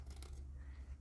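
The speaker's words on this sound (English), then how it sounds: "we're going to just go ahead and remove that excess with our scissors" Scissors make a short, quiet snip through excess paper while trimming a flower craft project, one brief cut heard close and alone.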